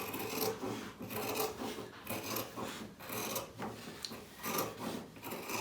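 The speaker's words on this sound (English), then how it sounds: "if I start here with my trusty shears, and I'm just going to cut round the chalk mark" Steel shears cutting through fabric along a chalk line for a hat band, giving a series of close, rhythmic rasping snips and rubbing strokes that run steadily without any talk.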